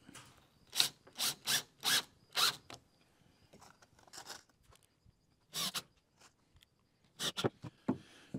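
Wood is screwed and glued for a Dutch door on a gypsy wagon: a series of sharp creaking, ratcheting squeaks comes in quick runs of several strokes with pauses between them, close and fairly quiet, with no talk.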